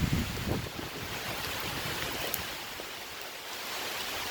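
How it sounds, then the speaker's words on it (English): Steady broadband roar of heavy rain and gusting wind as a storm rolls into woods, loud and continuous with no pauses, filling the whole stretch. "It's rolling in pretty hard right now. It's coming from this direction. As you can see, a wall of rain."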